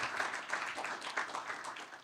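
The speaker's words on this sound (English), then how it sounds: "Now let's give a round of applause." A seated audience at a university engineering town hall recognition ceremony claps together, a brief dense burst of applause that stays steady and fairly loud throughout.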